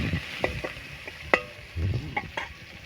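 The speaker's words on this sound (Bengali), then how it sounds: "পেঁয়াজ দিয়ে দিলাম, দিয়ে হালকা নেড়ে নিলাম" Onions frying in a pan for a soybean chunk curry are stirred gently, with a few distinct scraping strokes and soft clinks over a quiet sizzle, close and fairly faint.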